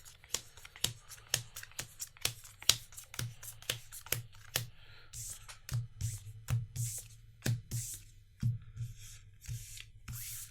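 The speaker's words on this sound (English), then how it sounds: "It's shuffled now. Everybody's all shuffled up." Magic: The Gathering cards are shuffled by hand in quick, regular riffling snaps, then softer bursts of sliding cards, close and clear with no talk.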